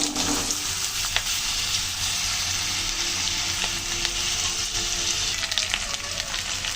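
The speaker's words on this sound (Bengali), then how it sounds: "দিচ্ছি গোটা জিরা, কেটে রাখা আলুগুলো দিয়ে দিচ্ছি।" Whole cumin seeds and cut potatoes frying in hot oil in a pan for a Bengali aloo dum, giving a steady, loud, close sizzle that runs throughout with occasional stirring clicks.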